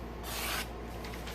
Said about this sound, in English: Very silent cutting. No catches whatsoever.